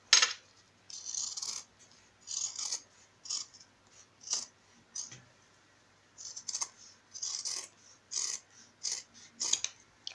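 Scissors snipping through fabric while cutting out a sewn pouch, a series of close, crisp cutting bursts in irregular rhythm with short pauses between strokes.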